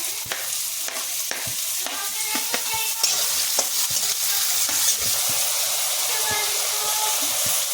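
Onions for masala Maggi hit a hot pan on a gas stove, giving a loud continuous sizzle with sharp clicks and scrapes of stirring throughout, close up and without talk.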